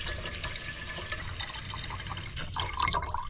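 Tap water runs steadily into a container for making coffee and tea at a nature campsite in the Netherlands, a continuous close splashing rush that swells slightly toward the end.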